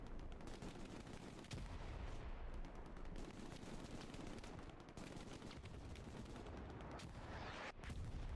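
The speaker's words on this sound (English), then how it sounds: "Oh, artillery has taken it out." Dense, continuous battlefield gunfire and explosive artillery blasts in the World War II shooter game Hell Let Loose, loud and sustained with sharp bursts throughout and no talk.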